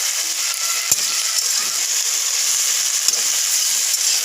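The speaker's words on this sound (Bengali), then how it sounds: "রসুন সব দিয়ে ভালো করে একটু ভেজে নিচ্ছি" Garlic and lentil dumplings frying in a pan, a steady bright sizzle that holds at an even level throughout, with a few soft clicks and stirring knocks over the hiss.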